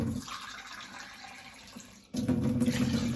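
Water pours steadily from a cup onto rice for biko in a kitchen, a close rushing splash that briefly drops away and then resumes with a fuller gurgling fill.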